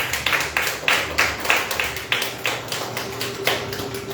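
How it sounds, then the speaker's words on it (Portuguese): A church congregation at a Portuguese-language worship service claps hands in a steady rhythmic beat, about four claps per second, loud and near, with no talking. "E as palmas exaltando o nome do nosso Deus."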